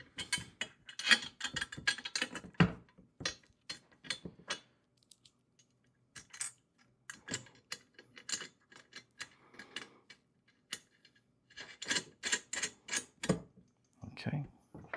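A ratchet tightening a nut onto a bolt while assembling a heavy-duty four-wheel garden dump cart: bursts of quick, close clicking with short pauses between, with a voice talking intermittently.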